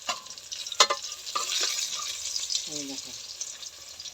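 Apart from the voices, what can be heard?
pabda fish frying in oil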